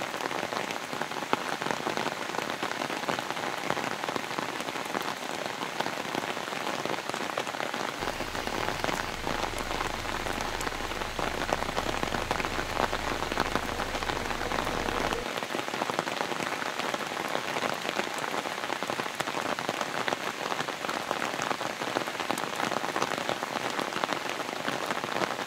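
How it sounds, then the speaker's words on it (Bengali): Heavy monsoon rain pours steadily over forest in the Dooars, a dense, continuous roar of drops hitting surfaces that stays loud and unbroken throughout, with no voices. "চারিদিকে ঝমঝম করে বৃষ্টি পড়ছে।"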